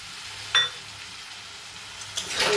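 Bori lentil dumplings drop into hot oil with cumin powder, alongside ridge gourd and potato, for a Bengali chorchori. A soft, steady sizzle with two brief louder spits or stirs, no talking.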